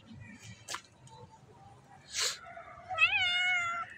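A cat on a house rooftop gives one clear, drawn-out meow near the end, preceded by a couple of short soft rustles and faint background noise, heard close and alone.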